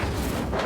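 A fire spell cast in Hogwarts Legacy bursts out as a short, loud, rumbling whoosh that fills the whole moment.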